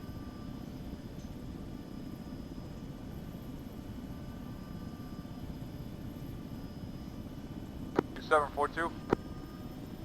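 A CH-47 helicopter in the ArmA 3 video game, a low steady rotor and engine drone held throughout, with a brief burst of radio talk near the end.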